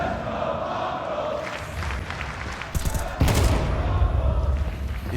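Rifle gunfire from an AWP and AK in Counter-Strike 2 during a semi-final at IEM Dallas 2025, with rapid shots and impacts over a steady roar of the tournament crowd that swells louder near the end.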